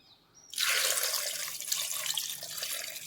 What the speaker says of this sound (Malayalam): മുങ്ങാൻ പാകത്തിന് വെള്ളം ഒഴിച്ച് കൊടുക്കാം.